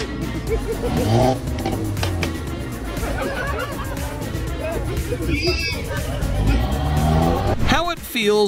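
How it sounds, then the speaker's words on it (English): A tuned car engine revs loudly in short bursts, with tire noise under excited voices, laughter and crowd chatter close to the microphone. "That one friend that always flexes his tuned engine."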